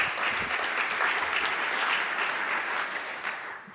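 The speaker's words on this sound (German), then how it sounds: "Einen großen Applaus, herzlich willkommen" Conference audience at a digital society congress applauding to welcome a speaker, a sustained, even wash of many hands clapping that holds steady throughout.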